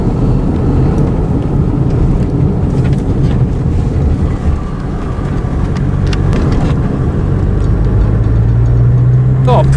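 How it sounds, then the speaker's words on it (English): Car driving off along a farm track in Dorset, a steady low engine and road rumble with wind buffeting the microphone, while people talk inside over it. "Can we stop the car?"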